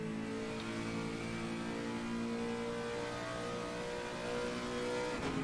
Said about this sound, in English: Lovely engine noise then.